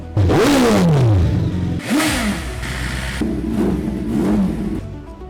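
A TVS Apache RR 310 BTO motorcycle at the California Superbike School, its engine loud and close, revving up and falling away in repeated swells with some mechanical clatter.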